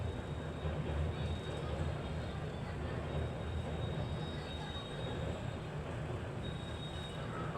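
Steady, loud rumble of a train rolling past nearby in India, with a continuous wheel roar and a faint high squeal.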